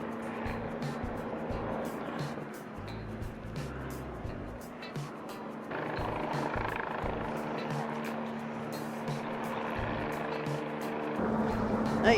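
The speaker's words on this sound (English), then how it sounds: "There's a helicopter circling over" A helicopter circles overhead near a London bridge, a low throbbing drone that persists through the clip, moderately distant, mixed with street noise and faint talk.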